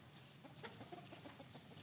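Chickens cluck faintly in short scattered calls over a low steady background hiss, with no one talking.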